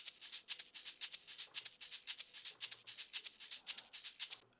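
A shaker sample in an amapiano beat plays alone, a steady run of crisp, bright rattling pulses that repeat evenly throughout at a moderate level.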